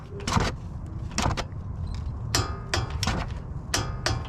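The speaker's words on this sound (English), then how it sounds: "I'm going to use my CDI torque wrench and tighten that to spec." A CDI torque wrench tightening the outer tie rod castle nut on a Lexus GX470, sharp ratcheting bursts in short repeated strokes, close and fairly loud with mechanical rattles between.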